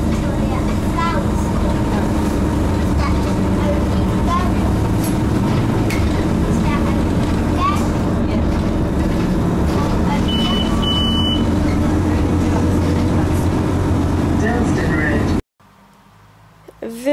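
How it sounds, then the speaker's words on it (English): Loud, steady rumble of a London Underground District Line train at a platform while a "mind the gap" announcement plays over it; the noise cuts off abruptly near the end. "Please mind the gap between the train and the platform."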